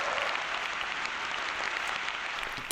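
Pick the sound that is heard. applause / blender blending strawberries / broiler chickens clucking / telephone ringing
applause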